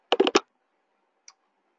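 Three quick, sharp computer mouse clicks in close succession, then a lone faint click about a second later, in a quiet room.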